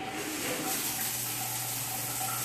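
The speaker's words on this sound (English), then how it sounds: "We're going to turn on the shower. With what? With the sink." Water running steadily from a bathroom sink tap being used to fill in for a shower, a continuous broadband rush with a low hum underneath, no talking.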